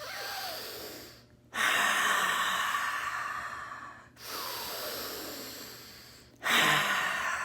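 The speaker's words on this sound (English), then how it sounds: "put your hand on your heart, your other hand on your belly, and do some deep breathing" Slow, deep breaths during a guided relaxation exercise: three long, airy inhalation or exhalation passes separated by brief pauses, close and clear with no talking.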